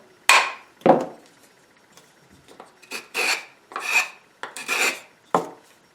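A tuned Stanley 12-404 hand plane cutting shavings from a wooden board, several rasping strokes in an uneven rhythm, close and crisp with short pauses between passes and no voices.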